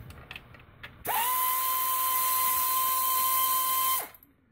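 Cordless power tool spinning on oil pan bolts of a 2000 Honda CR-V, a single sustained high-pitched whine lasting about three seconds, loud and close, preceded by faint clinks.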